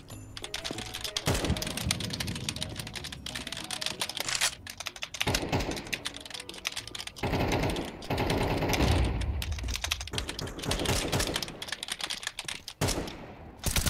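Rapid, busy clatter of a computer keyboard being typed on, near and continuous in dense bursts with brief pauses, no talk.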